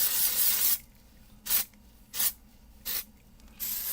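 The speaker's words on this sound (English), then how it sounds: "So what I do is I just start spraying it, especially on top, and just start working it through." Hair product sprayed onto a wig: a long hissing spray burst, then four shorter sprays at regular intervals, close by and loud, with quiet gaps between them.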